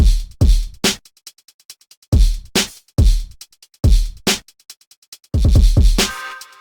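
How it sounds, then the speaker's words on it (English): Trap beat programmed in FL Studio with rapid Drum X hi-hats ticking quickly between booming kick hits, loud and punchy, ending with a denser sustained hit. "Okay, the next element was to add some hi-hats."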